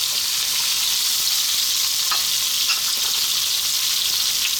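Ginger, onions and carrots fry over lively heat in hot oil, a loud continuous sizzle with faint scrapes and clicks of stirring, close and without speech.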